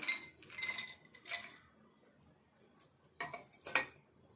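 Almonds and cashews are stirred while roasting in ghee in a pan, giving scattered light clinks and scrapes in a few short bursts with quiet gaps between them.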